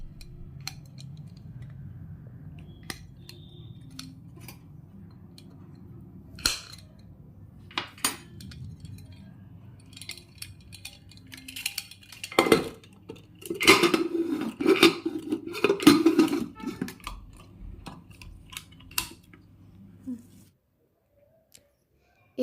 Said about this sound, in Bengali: এবার প্রেসার কুকারের ভালভ এবং রাবার ব্যান্ডটি খুলে নেব।